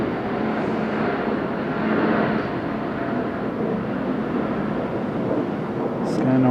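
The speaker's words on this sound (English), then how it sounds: "F-35. F-35, here we go." An F-35 fighter jet landing at Okinawa airport gives a loud, steady broadband roar throughout, with no pause, and a voice briefly talks over it near the end.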